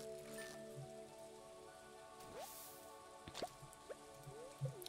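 Rain patters in Stardew Valley with soft drips and light splashes on surfaces, heard under steady tonal game music. No one speaks.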